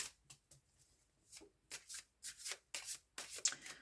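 Quiet, close riffle bursts of a Bosch tarot deck being shuffled, coming in irregular clusters of soft card slaps and rubs with short pauses between.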